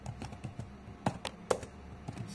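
Keys clatter on a computer keyboard as HTML code is typed, a quick run of close, sharp clicks with a few louder strokes standing out, no voices.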